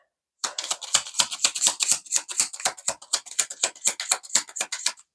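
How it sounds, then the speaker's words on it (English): Tarot cards being shuffled by hand, a quick run of crisp papery riffling clicks at a steady, fast rhythm that lasts several seconds, close and fairly loud. "It's time for some tarot cards. Let's just shuffle a little bit"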